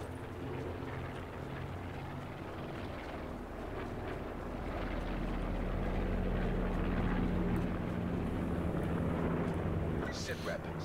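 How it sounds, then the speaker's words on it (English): A supply drop plane in Call of Duty Blackout flies overhead as a loud, sustained low engine drone that swells toward the middle and stays heavy throughout, with game sounds and a voice over it. "Could you be louder, plane?"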